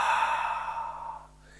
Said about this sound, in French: l'inspire se fait par le nez et l'expire par la bouche en relâchant bien la mâchoire inférieure de manière à produire un son caractéristique